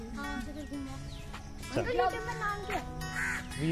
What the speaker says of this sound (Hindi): अभी तो कौवा ही कैं कर रहा है